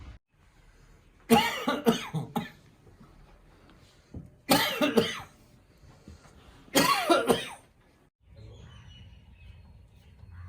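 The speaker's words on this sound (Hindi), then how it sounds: "थोड़ी खांसी आ गई है।" Three separate bursts of harsh coughing, each a quick cluster of coughs, spaced a couple of seconds apart in a quiet room.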